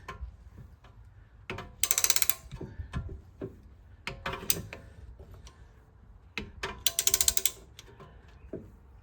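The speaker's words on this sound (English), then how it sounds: "once you get it installed, it's just like just ratchet it, and it will just keep retracting the piston all the way back to the end." Ratcheting caliper piston retractor tool being cranked on a 2019 Volvo XC90 front brake, with quiet irregular clicks and several bursts of rapid ratchet clatter close by, no talking.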